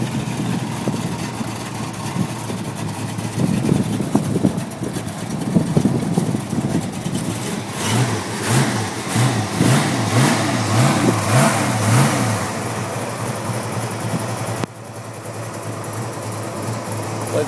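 A 1936 Chevy 5-window coupe engine with a healthy cam, a loud rumbling idle rising into a string of rhythmic revs, heard close and dropping back to a steadier idle near the end, no speech.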